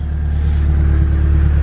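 A Japanese-market car engine idles while warming up, producing a steady, loud low rumble with an even throb and no revving.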